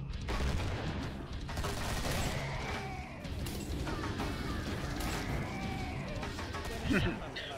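Gunfire from players shooting each other in a team tournament match, dense and continuous with sharp bursts throughout, under talk.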